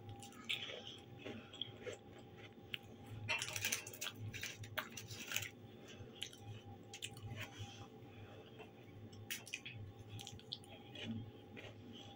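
Buckwheat is chewed close to the mic, with soft wet squishing and clicking mouth sounds in an irregular rhythm, quiet and without talk.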